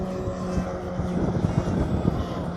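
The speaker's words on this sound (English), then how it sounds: "Someone arriving in a very, very nice plane. Beach 200 by the looks of things." A twin-prop Beechcraft 200 arrives, its steady propeller drone rumbling low and constant throughout, moderately near, with no talk over it.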